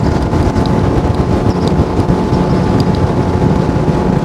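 A Quintrex 440 Renegade aluminium boat driven by a 60 hp outboard held at 5,400 RPM, producing a steady, loud broadband roar of engine and rushing water mixed with wind buffeting, continuous and unbroken throughout.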